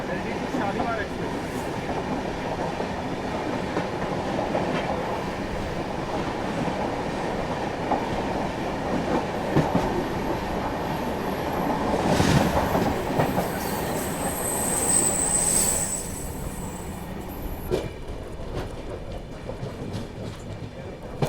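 Maharashtra Express train running on the rails, steady loud rumble and clatter of wheels with a brief high squeal of wheels midway, heard from on board over about twenty seconds, with no talk.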